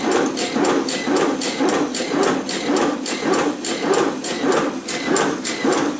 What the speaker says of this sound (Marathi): मशीन चालू आहे, माल टाकलेला आहे.